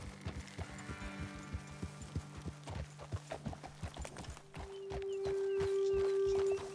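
Horses walk at a steady pace in Red Dead Redemption 2, their hooves clip-clopping in a close, regular rhythm before a sustained tone rises underneath near the end.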